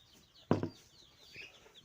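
A couple of short, soft clucks from a chicken nearby, followed by faint scattered calls of running chicks against quiet background.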